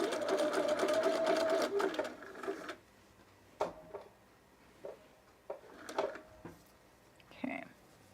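A sewing machine stitches picot elastic onto underwear, a fast rattling run of needle strokes for a couple of seconds, then stops, followed by scattered clicks, knocks and handling sounds with a person speaking in between.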